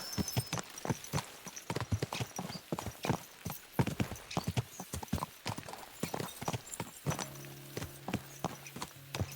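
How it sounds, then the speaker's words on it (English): Rapid, rhythmic clip-clop of galloping horse hooves in Kingdom Come: Deliverance 2, close and loud, with a brief whinny near the end; no talking. "Let's really spur these horses on, eh?"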